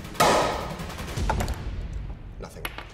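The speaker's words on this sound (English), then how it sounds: "That's why I'm using the bursting of a balloon." A balloon bursts with a single sharp bang near the start, leaving a short decaying tail of air noise.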